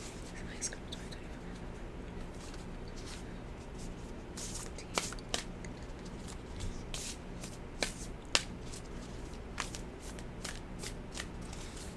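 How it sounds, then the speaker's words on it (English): Moonology oracle cards being shuffled close up, repeated soft riffling swishes and crisp flicks with occasional sharp snaps against a quiet room, with low whispery voice traces. "Let me pull the Moonology cards again."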